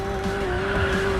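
Tires squealing as a car skids under braking in a racing game, a steady high-pitched screech holding for about a second over engine roar.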